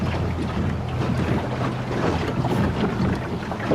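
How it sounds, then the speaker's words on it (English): A gust of wind batters the microphone while a catboat heels under sail, a steady loud rush of wind and water noise filling the whole span with no let-up. "We've got a nice gust here"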